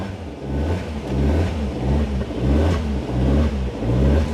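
A manual car's engine revs up and down in steady surges as the clutch is released, a close, loud mid-range drone rising and easing several times with no talking.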